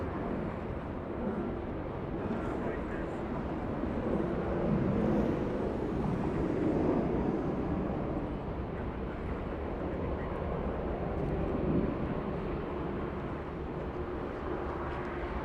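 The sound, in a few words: airliner arriving at Los Angeles International Airport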